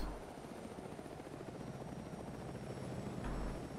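A helicopter in the military video game Arma 2: Operation Arrowhead thrums with a steady, low rotor drone throughout, moderately distant and even, with a slight swell near the end and no talking.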